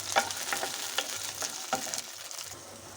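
Peanuts, dried red chillies and green chillies fry in a pan with a soft crackling sizzle and a few scraping stirs, close and fairly quiet.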